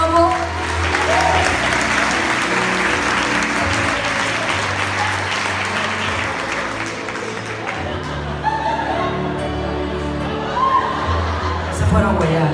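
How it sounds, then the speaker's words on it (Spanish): A comedy show audience breaks into steady applause mixed with some laughter and chatter, dense clapping that eases slightly midway before swelling again, with voices talking over it. "Un aplauso para mi cubano guapo."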